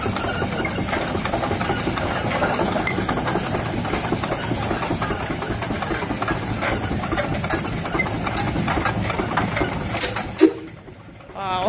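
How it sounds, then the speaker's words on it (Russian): A steam tractor at a threshermen's museum runs with continuous chugging, hissing and mechanical clatter at close range, with a sharp hiss burst near the end before it briefly drops away. "Вот такой паровой трактор."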